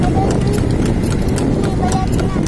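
Horse hooves clip-clop steadily beneath a moving kalesa carriage on a ride through Rizal Park, the hoofbeats close and continuous under a constant background rumble, with voices and chatter mixed in.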